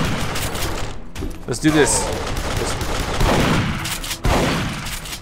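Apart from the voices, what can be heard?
enemy gunfire in the video game Duke Nukem Forever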